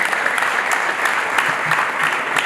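Guests at a wedding ceremony applaud together in a dense, sustained round of clapping that stays fairly loud and even throughout.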